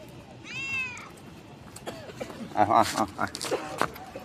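An office cat that lives permanently at the workplace meows several times at midnight outdoors, a clear close call followed by shorter cries, with light footsteps and rustling around it.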